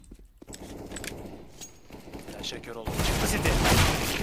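Rapid gunfire bursts from the video game CS:GO crackle through the clip, growing denser and louder toward the end as a player talks over the shooting.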